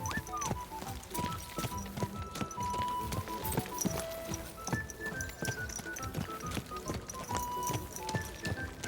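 A horse clip-clops steadily in a fast rhythm, close and clear, in the video game Kingdom Come: Deliverance 2, with faint tones from the game's music or ambience.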